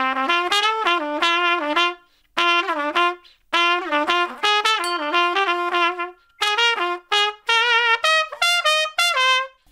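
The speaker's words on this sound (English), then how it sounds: "Embouchure is the particular way that a brass player buzzes their lips into the mouthpiece." A brass player buzzes their lips into a trumpet-style mouthpiece, giving a close series of reedy, pitched phrases. They come in short bursts that step up and down in pitch, separated by brief pauses, with no other sound.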